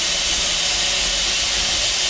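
Steam locomotive 801 being test fired, giving off a loud, continuous broadband hiss of escaping steam with a low rumble underneath, steady throughout.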